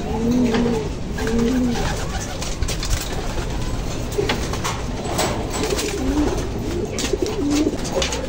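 A sick racing pigeon breathes with a rattling, congested wheeze among repeated low cooing calls, close and continuous over a dense background noise.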